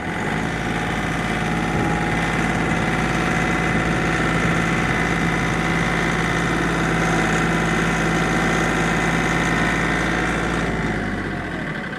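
Kioti CK3510 hydrostat tractor engine held at mid-range RPM, a steady close drone with a low vibrating hum and no pauses, its pitch sagging slightly near the end.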